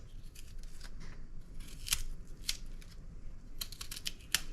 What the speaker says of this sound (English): Peeling the yuca.